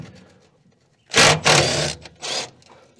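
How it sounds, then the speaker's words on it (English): A Milwaukee impact gun spins 13 mm bolts off the gas tank of a VW Type 3 Fastback barn find, in three sharp, loud whirring bursts separated by brief pauses. "This Milwaukee gun sure comes in handy."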